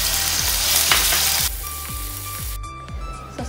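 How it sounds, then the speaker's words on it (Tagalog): Bacon sizzles and crackles loudly in a hot pan, a dense steady frying hiss with a quieter stretch near the end, no voices. "Pag mainit na, ilagay natin ang ating bacon. Mas masarap kasi yung prito para medyo crispy siya."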